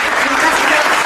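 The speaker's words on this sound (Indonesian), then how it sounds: "Tepuk tangan." Applause from an audience during a student talk session, a brief, dense burst of clapping filling the moment with voices mixed in.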